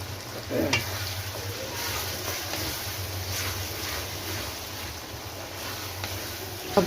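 Mutton keema with tomatoes and spices fries in a pan with a steady, close hiss and sizzle. Occasional scraping stir sounds rise over it, and no one speaks.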